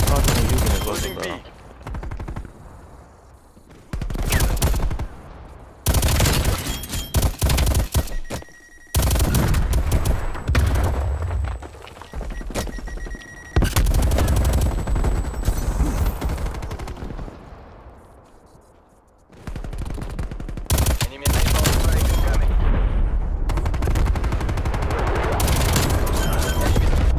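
Rapid, sustained minigun-style automatic fire from the Death Machine scorestreak in Call of Duty: Black Ops Cold War, loud bursts stretching across most of the stretch with brief gaps and explosive booms, dense and close.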